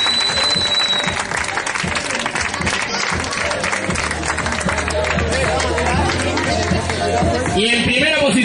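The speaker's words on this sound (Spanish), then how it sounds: "Un fuerte aplauso." A crowd applauds runners at the podium of a popular road race in Telde, with clapping mixed into loud crowd chatter and a voice over a public address, the noise dense and continuous throughout.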